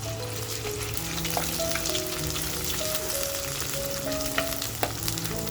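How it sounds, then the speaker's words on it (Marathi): Chicken kharda paste frying in hot oil with a dense, continuous crackling sizzle and occasional stirring scrapes, close and fairly loud. "तो आता छान असा आपल्याला तेलात टाकायचा आहे आणि मस्त फ्राय करून घ्यायचं आहे"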